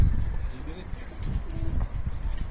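Low, soft pigeon cooing murmurs close by, mixed with rustling and faint chirps, while a voice talks quietly in the background.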